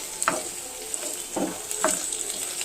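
Sliced onions, curry leaves and green chilies fry in a pan while a spoon stirs them. Soft sizzling runs throughout, broken by a few short scraping strokes, close up and with no speech.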